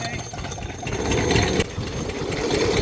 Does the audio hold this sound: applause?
no